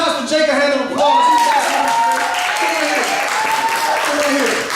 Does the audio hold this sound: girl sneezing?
no